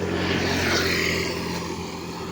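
A loud, steady engine drone passes close by, swelling and then slowly fading over a couple of seconds, heard alone near a sugarcane harvest field.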